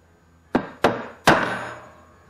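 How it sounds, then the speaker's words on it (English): A hammer strikes a steel center punch three times in quick succession to mark a hole before drilling. Each blow is a sharp, close metallic crack with a short ringing decay. "punch us a little hole there where we can, so our drill won't skate around on us"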